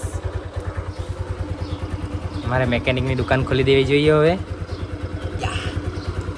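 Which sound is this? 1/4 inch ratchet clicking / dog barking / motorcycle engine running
motorcycle engine running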